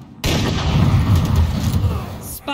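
A loud, close gunshot in the Valorant video game during a one-on-one sniper duel, a sharp crack followed by a long booming decay that rolls on for about two seconds.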